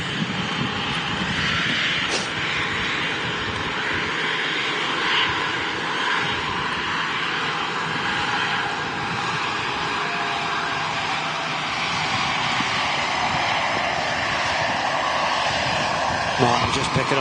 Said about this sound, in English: I'm just picking up an aircraft in the sky there coming out. KLM Embraer by the looks of it.